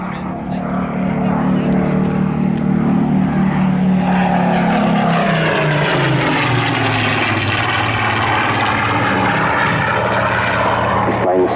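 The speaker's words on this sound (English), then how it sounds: "Captain Jamie Rankin, DSO DFC, in formation with two other THUM Flight Mark 19 Spitfires, PS-853 and PS-915, to form the historic aircraft flight" A Mark 19 Spitfire flying at the Southport Air Show, its propeller engine droning loud and continuous, the pitch shifting as it passes overhead.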